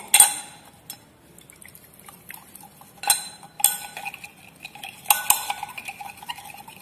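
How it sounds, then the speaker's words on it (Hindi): Glass rod stirring copper sulphate solution in about 25 ml of water in a beaker, giving a few sharp clinks and taps against the glass scattered over several seconds, with soft liquid swishing between them and no talk. "अब इस सॉल्यूशन को with the help of glass rod अच्छी तरह से"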